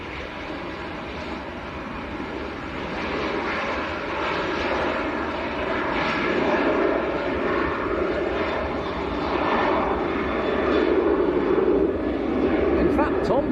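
Jet engines of a Jet2 airliner roar as a steady, broad rumble at Manchester airport, moderately distant and building gradually in loudness while people talk over it.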